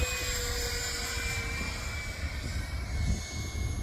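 A Hobbyking D.H. Vampire, an electric ducted fan RC jet, flies overhead with a steady, thin whine and a broad rushing hiss that stays fairly even, moderately distant, with no talk.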